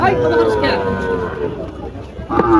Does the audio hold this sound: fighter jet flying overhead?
no